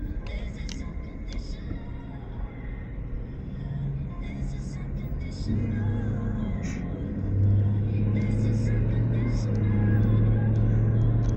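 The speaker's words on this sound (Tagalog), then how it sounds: "Dami ng sasakyan." Dense road traffic streams along Tumama Road in Riyadh, a continuous low rumble of many cars that swells louder and closer toward the end, with a few brief higher hisses over the engine drone.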